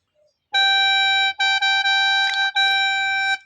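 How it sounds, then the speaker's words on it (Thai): A reedy khaen, a Lao-Thai free-reed mouth organ, sounds a single high La note, held and rearticulated a few times with brief breaks, clear and close. "เป็นเสียงลูกสุดท้ายครับเสียงลาสูงครับ"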